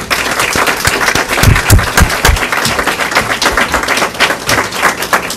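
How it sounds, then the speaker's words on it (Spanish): Audience applause at an academic colloquium lecture, dense sustained clapping from a nearby crowd, loud and continuous throughout with no speech. "quiero pedirles por favor que le brindemos un fuerte aplauso"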